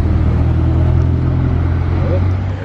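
Ferrari Portofino driving past on a street in Monaco, a steady low engine rumble that stays loud and close throughout with a slight rise, while a voice talks over it.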